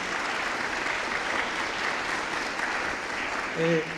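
Applause for Elizabeth Padilla at a forum on light pollution prevention and control: steady, sustained clapping from an audience, fairly even throughout, with a brief voice rising near the end.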